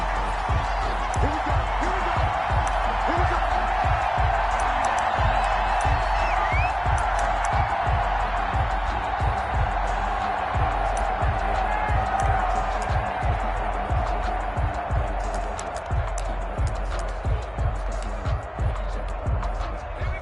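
Stadium crowd roars and cheers steadily at a Los Angeles Rams versus Pittsburgh Steelers NFL video game match, a loud continuous wash of noise with commentary talk over it throughout.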